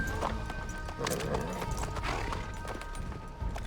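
In Assassin's Creed III, horse hooves clip-clop in a steady rapid rhythm over game noise and a low background hum, fairly loud throughout.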